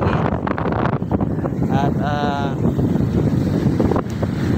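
Wind blowing at sea buffets the microphone in a loud, continuous rumble, with a boat nearby and a voice speaking briefly over the gusts.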